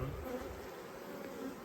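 Honey bees hum around hive frames as a steady, faint drone, continuous and unbroken throughout.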